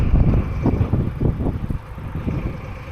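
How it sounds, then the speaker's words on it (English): A big diesel locomotive engine idles at a railway yard, a steady low rumble with pulsing throbs, mixed with outdoor wind noise and no speech. "there you can hear the diesel"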